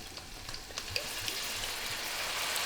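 Dry wine poured into a hot pan of canned baby clams, a steady, bright sizzle with spattering crackles that grows fuller and stays close and loud, with no talking.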